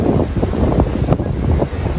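Wind gusting hard across a microphone at the seaside, a rough continuous rumble with roaring surges and faint surf beneath.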